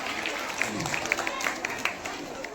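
At a school farewell ceremony at U.M.S. Kasaha in Barauni, Begusarai, a crowd gives welcoming applause, with brisk overlapping claps and murmuring voices in a reverberant space.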